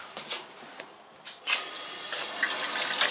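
Water gushing from a kitchen tap after a water filter change, starting abruptly after a few soft knocks and rubbing sounds and then running as a loud, steady close hiss.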